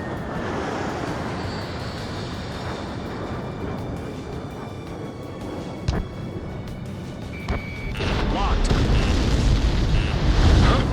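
An enemy transport blows up in Ace Combat 7, a loud roaring blast swelling over steady jet and combat noise, with sharp transient hits and radio-style voices talking over the action.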